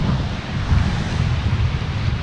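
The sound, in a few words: wind blowing at Cascade Falls viewpoint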